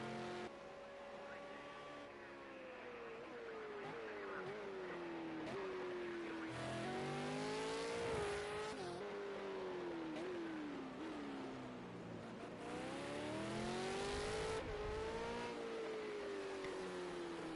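Race cars in a video game lap the Long Beach street circuit, their engines whining loud and continuous, rising and falling in pitch through shifts and corners, with cars passing close by.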